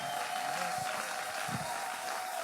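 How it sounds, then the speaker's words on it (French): A church congregation applauds and cheers in a steady, dense wash of clapping from a large crowd filling the room, continuous throughout. "Est-ce que nous pouvons encore acclamer pour Jésus, s'il vous plaît?"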